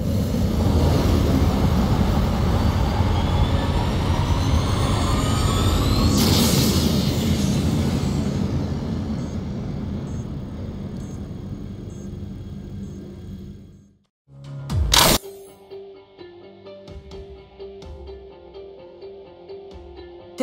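The Helios airship from the game Honkai Impact 3 flies with a loud, steady engine roar and whoosh. The roar fades out around fourteen seconds, and a sharp burst and then a quiet electronic hum follow.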